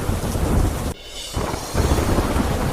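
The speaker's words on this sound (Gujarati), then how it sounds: "વીજળીના કડાકા ભડાકા સાથે વરસાદ થતા નદીમાં પૂર જેવી સ્થિતિ સર્જાઈ." Heavy downpour pounds steadily over villages near Khambha in the Gir area, with a loud thunder crash breaking through the roar of rain during a storm that swelled the river.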